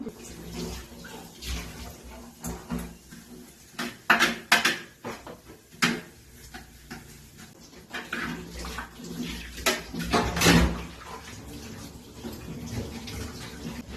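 Rice being rinsed with water in a mesh strainer set in a small pot: soft sloshing and trickling with scattered clinks of the vessel, quiet and close, growing busier toward the middle.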